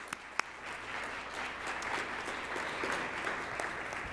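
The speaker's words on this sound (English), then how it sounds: "Let's give them a round of applause." An audience at a workplace forum applauds a sponsor, a steady round of clapping of moderate loudness that holds evenly for several seconds with no talk over it.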